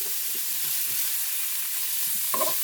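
Garlic stirred around in a hot pan, with soft scraping strokes and a faint steady sizzle, then a brief louder clatter near the end.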